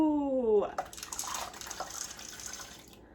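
Chocolate chips pour into hot liquid in a crockpot of homemade hot chocolate, giving a close, sloshing splash and a run of bubbly, trickling liquid noise. A brief voice or tone comes just before.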